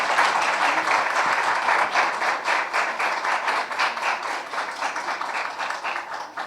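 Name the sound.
applause, double clapping for a course participant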